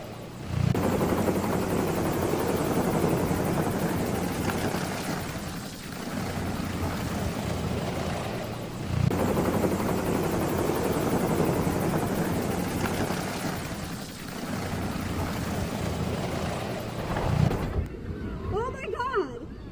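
A helicopter in flight over Los Angeles gives a continuous loud rotor drone with rhythmic thumping that swells and eases, plus a brief rustle at the very end.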